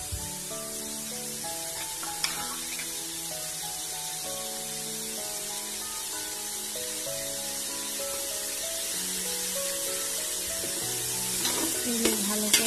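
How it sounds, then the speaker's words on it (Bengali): Ginger garlic paste fries in a pan with a steady, close sizzle and occasional stirring scrapes, continuing alone throughout. "এগুলো ভালো করে ভেজে নেব।"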